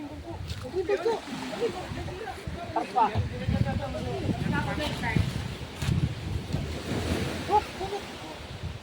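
Waves wash and surge continuously with wind buffeting the microphone, while people talk over the rolling surf.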